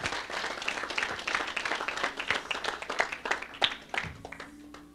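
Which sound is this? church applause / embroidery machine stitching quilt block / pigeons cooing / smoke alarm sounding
church applause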